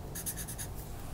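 Pen or marker writing by hand on paper while working a meters-to-yards conversion, a short run of scratchy strokes heard close and fairly quiet over a low background hum.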